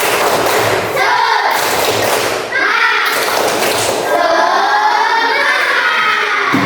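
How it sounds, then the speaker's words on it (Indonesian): A school class does a rhythmic 'tepuk semangat' chant, with patterned group claps and children's voices shouting in time, loud and close in a classroom. "Masih semangat saja? Tepuk semangat."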